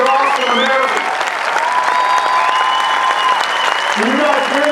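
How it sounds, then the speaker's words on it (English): A large crowd at an Air Force basic military training parade claps and cheers continuously, loud and sustained, with whistles and voices calling out over the applause. "Every single applause, every single cheer, every single clap, this is for you."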